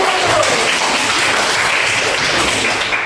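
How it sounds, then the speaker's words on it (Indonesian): A class of students claps together in a steady, dense burst that stays at an even level for the whole stretch, with no talk over it. "Oke, tepuk tangan dulu."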